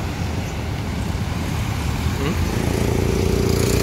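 A tour bus passes along the road amid other traffic, a loud, close, continuous engine drone and tyre rumble that builds slightly toward the end.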